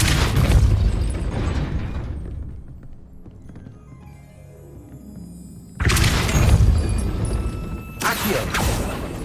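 Depulso spell blasts from the video game Hogwarts Legacy hit as loud, broad booming bursts, with one long blast fading out, then two more sharp impacts.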